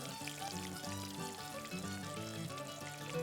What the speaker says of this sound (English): I'm going to dip the rings and then one by one lay them into the hot lard.